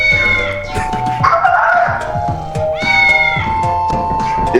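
A cat meows repeatedly at close range, with a low purring rumble between the calls; no talking.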